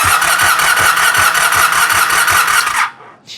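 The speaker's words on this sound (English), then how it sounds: "So now I'm going to go ahead and crank the engine over," An engine cranking over on the starter during an ignition coil and pickup coil peak voltage test, a steady rhythmic churn of evenly spaced compression pulses lasting nearly three seconds, then cutting off abruptly into near silence.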